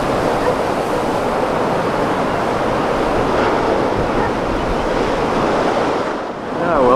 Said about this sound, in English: Not what it used to be in the old days, but there's definitely some waves.